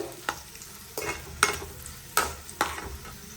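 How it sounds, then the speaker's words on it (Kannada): Chopped onions fry in oil in a kadai under a soft continuous sizzle, broken by five or so sharp spatula scrapes and clacks spaced about half a second apart, close up and with no voices. "ಕಟ್ ಮಾಡಿರೋಂತಹ ಆನಿಯನ್ನ ಹಾಕ್ಕೋಬೇಕು. ಅದನ್ನು ಚೆನ್ನಾಗಿ ಫ್ರೈ ಮಾಡ್ಕೋಬೇಕು"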